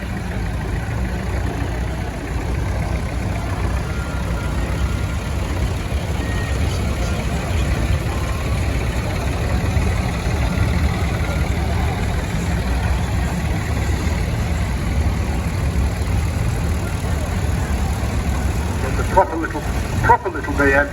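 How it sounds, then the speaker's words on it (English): A small Allis Chalmers tractor fitted with a 3-cylinder Perkins engine runs at a steady low idle throughout at a steam fair, with a short knock near the end. "Another little Alice Chalmers there with the P3 in it,"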